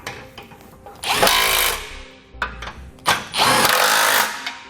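A power tool drives the hardware tight on a Roadmaster Direct-Connect base plate kit: two long, loud whirring bursts separated by shorter spurts and clunks, close up and without talk.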